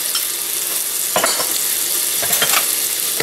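Minced garlic sizzles loudly in a hot pan while a utensil stirs it, with brief scraping bursts over a continuous hiss and no talking.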